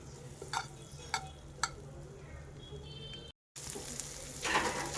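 Chopped garlic and coriander leaves sizzling in butter in a pan, a soft continuous fry punctuated by a few sharp utensil taps, with a brief cut and louder crackling near the end.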